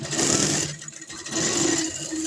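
Sewing machine stitching the seat seam on both sides of palazzo pants, a steady whirring run that pauses briefly midway and then resumes.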